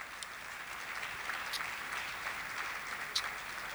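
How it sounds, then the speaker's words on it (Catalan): Applause for the technical crew at an album presentation in a Castelló auditorium, a soft, distant, steady patter of many hands with a couple of sharper claps near the end. "Fort aplaudiment per l'equip tècnic."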